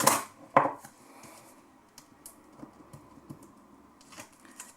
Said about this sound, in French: Hop, je coupe mon double face.